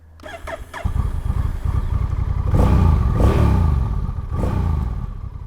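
A 2024 Honda Rebel 1100 cruiser's engine revs hard and close, with deep throaty pulses that rise and fall in three or four strong surges over a steady rumbling idle.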